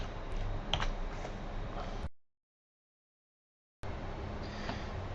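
Soft, rapid keyboard typing with scattered clicks, broken by a short silent gap before the tapping resumes.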